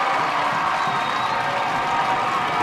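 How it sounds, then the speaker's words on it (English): Sit-in protesters cheer at a men's college basketball game between York College and F&M, a steady, dense crowd roar filling the whole stretch with no breaks. "And the sit-in protesters are cheering"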